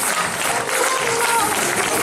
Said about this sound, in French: Donc on applaudit toute cette jeunesse au festival.